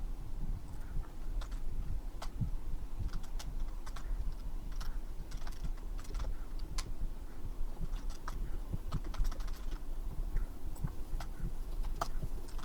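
Code is typed on a computer keyboard in a steady stream of close, clicking keystrokes with irregular spacing, lasting throughout with no talk.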